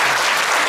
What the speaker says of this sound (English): Let's give her another round of applause for that.